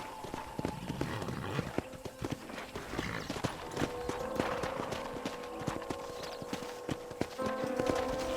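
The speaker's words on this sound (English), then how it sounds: "Are you getting on the horse or not?" A ridden horse's hooves clip-clop steadily in Red Dead Redemption on Xbox One X, close and rhythmic over game ambience, with a brief whinny-like note and faint background voice.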